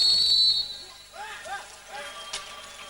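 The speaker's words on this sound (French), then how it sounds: "pourquoi l'arbitre a sifflé avant?" A referee's sharp whistle blast opens the moment at a handball world championship final between France and Russia in 1993, followed by crowd noise and a commentator talking.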